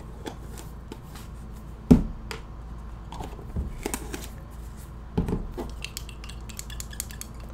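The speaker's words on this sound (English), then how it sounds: "I'm just gonna go ahead and mix them in there" Modeling paste is stirred in a container with a tool, giving scattered scrapes and clinks, a few sharper knocks against the sides, close and moderately loud, with no talking.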